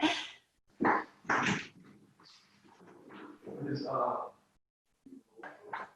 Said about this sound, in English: Can I show you my puppy?